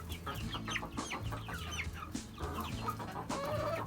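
Several chickens, new white-crested Polish hens among them, cluck and chatter steadily at close range while settling their pecking order, with busy overlapping calls and no talk.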